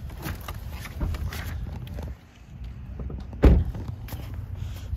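A 2024 Toyota Camry XSE trunk is released from inside the car, giving a sharp mechanical thunk and pop partway through, set against low rumbling ambient noise and faint shuffling.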